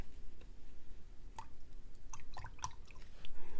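Small wet drips and splashes of water, scattered irregularly, close by, over a low background rumble.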